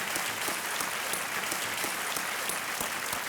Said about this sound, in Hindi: एक बार तालियों के साथ दोनों का अभिनंदन